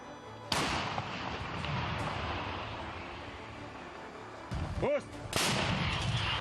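A Ukrainian tank fires at close range on trenches near Bakhmut: a heavy, booming blast followed by long rumbling decay, then a second loud shot a few seconds later, with a whine of passing movement between them.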